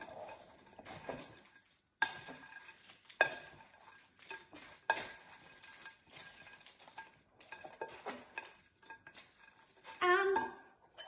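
Torn bread and salad being tossed in a bowl for panzanella, with soft wet stirring and several sharp clinks and knocks of spoon against the bowl, close and fairly quiet, with no speech.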